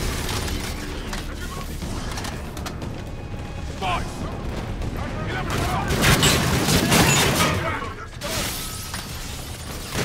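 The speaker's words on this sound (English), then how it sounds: "Who the heck is shooting you?" Dense, continuous gunfire rattles through a futuristic shooter campaign in Call of Duty: Infinite Warfare, loud bursts layered with crashes and mechanical clatter, with voices talking over the chaos throughout.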